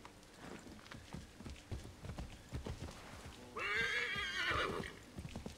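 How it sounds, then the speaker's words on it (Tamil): A horse in the Assassin's Creed 3 Remastered video game gives a loud, clear whinny, preceded and followed by the rhythmic clip-clop of its hooves. "எகத்தானம் பிடிச்ச குதிரையாக இருக்கு."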